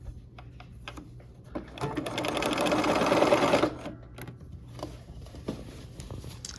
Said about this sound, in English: so we are going to sew this side gray seam on